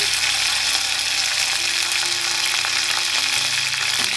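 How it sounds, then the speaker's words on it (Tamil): Mustard seeds, curry leaves and cumin sizzle in hot oil for a quail egg curry, a loud continuous crackling hiss close by with light scattered pops. "இப்போ நம்ம கடுகு பொட்டிடுச்சு கருவேப்பில் ஆட் பண்ணிக்கோங்க கூடவே ஜீரகமாக ஆட் பண்ணிடுங்க"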